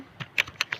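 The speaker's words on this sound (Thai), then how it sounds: "เสียงคีย์บอร์ด" Computer keyboard typing: six or so quick, light key clicks in an uneven rhythm, close and fairly faint, with no voices.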